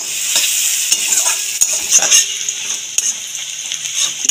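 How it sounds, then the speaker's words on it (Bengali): Onions fried with green chilli and turmeric in a pan give a loud, continuous sizzle, broken by repeated scraping and clinking as a spatula stirs them, close and without talk. "পেঁয়াজটাকে ভেজে নেব।"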